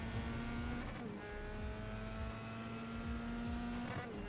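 A Formula 3 race car at Road America accelerates with a steady, loud engine tone from onboard, its pitch holding and shifting briefly, with no voices heard.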